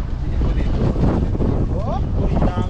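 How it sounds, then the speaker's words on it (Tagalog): Gusty wind buffets the microphone at an outdoor day market where food is laid out on the ground, a rough, continuous roar with voices chattering underneath. "Ay, mahangin pala no."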